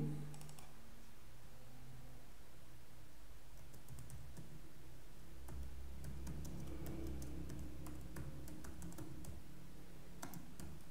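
Steady keyboard typing while HTML5 code is entered on a computer, with dense soft clicks running continuously throughout at moderate, close level, set against a low background hum.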